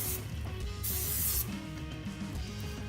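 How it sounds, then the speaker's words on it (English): Plasti Dip sprays from an aerosol can nozzle onto a car wheel, a sharp hissing burst of about half a second, close and loud over low background rumble, with quieter hiss before and after. "Seems like it's coming out kind of globby out of this spray nozzle though."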